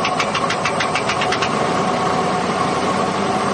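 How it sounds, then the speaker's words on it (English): Car engine idling steadily up close with a rod knock, a quick run of light metallic tapping riding over the rumble in the first second and a half before it blends into the steady idle. "a rod knock on it. So you got that little bit of tap, tap, tap into it."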